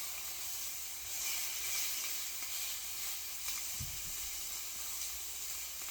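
Pre-cooked ham sizzles steadily in a hot pan, a close, continuous frying hiss with small crackles and brief pops.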